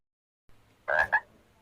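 A frog croaks twice in quick succession, close and clear, after a short quiet start and a faint low hum.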